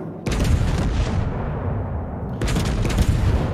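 The Italian battleship Conte di Cavour fires its main guns in World of Warships: two heavy booming salvos, loud and near, each followed by a long rumbling tail.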